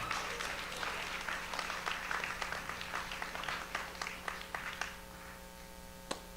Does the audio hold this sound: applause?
yes